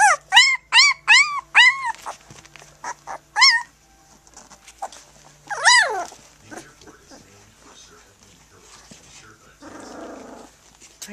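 Close, loud dog sounds: a quick run of high, yelping barks and whines, then a longer whimper, followed by low, rumbling growls that trail off quietly.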